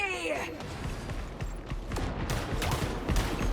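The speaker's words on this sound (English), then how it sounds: "And now we're back to shooting at nothing." A steady run of rapid gunshots crackles through a busy fight in the hero shooter Marvel Rivals, mid-loud, with effects swirling around it.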